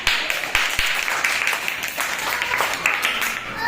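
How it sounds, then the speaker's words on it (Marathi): Young schoolchildren in a first-grade class clap for a classmate, a dense, continuous patter of many small hands with scattered sharper claps, filling the room for several seconds. "सर्वांनी अहद साठी टाळ्या वाजवा"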